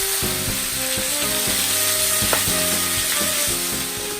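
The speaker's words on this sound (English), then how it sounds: "Turned it over to sear the other side." Chops sear in a crowded pan, a loud steady sizzle broken by repeated clanks and scrapes of a utensil against the pan as the meat is turned, with no voices.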